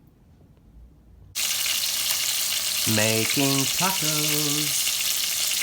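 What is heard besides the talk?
chicken tacos cooking in a pan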